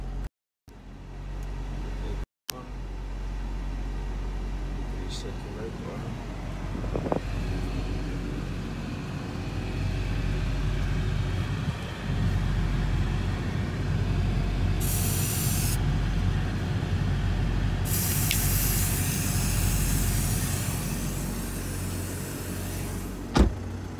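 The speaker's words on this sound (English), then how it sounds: "Just excuse the compressor, it's gonna come on now." A car's air conditioning compressor runs with a steady low hum and mechanical drone that continues throughout, with a couple of brief hissing bursts near the end.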